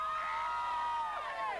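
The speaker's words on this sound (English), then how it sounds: "You could probably hear the crowd behind us." Crowd cheering and whooping just after a total solar eclipse in August 1999, a continuous, fairly near swell of many voices with high shouts rising and falling throughout.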